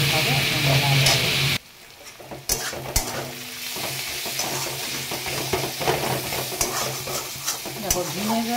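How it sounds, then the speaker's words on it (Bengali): Kerala Bangalore style chicken with curry leaves frying in a pan, a loud close sizzle with stirring and scraping throughout, briefly quieter after a lift, with a voice talking intermittently. "তো চলো এটাকে ভালো করে এবারে ভেজে নেব, খুব সুন্দরভাবে একদম লাল হবে।"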